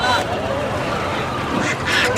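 Chinese ducks quacking amid the busy bustle of a weekly village poultry market near Dhaka, loud and close, with people talking nearby.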